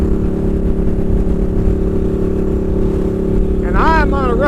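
A motorcycle cruising along a road on a warm day, a steady loud engine drone with a constant low hum and wind rush throughout, and a voice briefly talking over it near the end.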